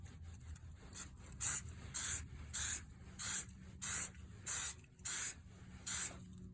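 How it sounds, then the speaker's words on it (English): Eight short bursts of aerosol protectant coating spraying onto a BMW i3 car seat hiss at an even pace, close up, separated by brief quiet gaps. "we'll go ahead and spray a section and see what it looks like after it dries"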